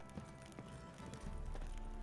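Horses in The Witcher 3 video game, with a steady clip-clop of hooves close by, moderately loud over a faint game background.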